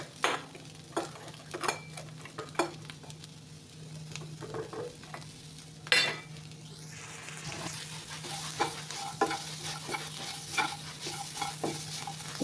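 Fish fries in a pan with onion, chilli and garlic while a spatula stirs, giving a soft background sizzle under a series of sharp, irregular scrapes and taps against the pan, close and alone.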